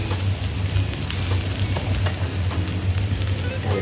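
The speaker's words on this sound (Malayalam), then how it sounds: "ഇതിലേക്ക് ഒരു ചെറിയ സവോള ചെറുതായിട്ട് ചോപ്പ് ചെയ്ത് വെച്ചിരിക്കുന്നതാണ്. ഒന്ന് നമുക്ക് സോട്ട് ചെയ്യാം." Chopped small onion sautés in hot oil in a pan for a Goan fish curry, giving a steady, dense sizzle with faint crackles and a low hum beneath, and no voices.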